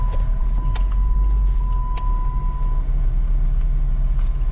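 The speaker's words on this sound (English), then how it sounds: "See how this car drives" A new car rolls along with a steady low road rumble and engine drone from inside the cabin, joined by a faint tonal whine and a few light clicks, with no talking.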